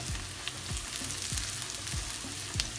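Chopped onions and green chilies frying in hot oil, a dense continuous sizzle up close with a few dull, evenly spaced knocks from stirring.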